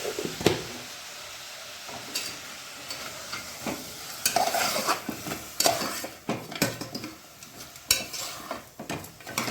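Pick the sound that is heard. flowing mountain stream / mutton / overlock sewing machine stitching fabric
mutton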